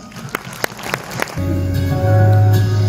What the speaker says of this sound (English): Let's give them a loud applause.